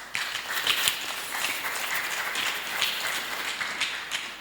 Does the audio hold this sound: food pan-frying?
no